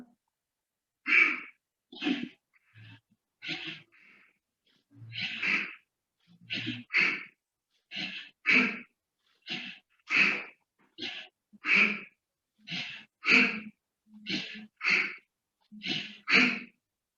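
Bhastrika yoga breathing: a long run of rapid, forceful breaths through the nose, each a sharp close hiss, repeated steadily at a quickening pace for about fifteen strokes with no talking.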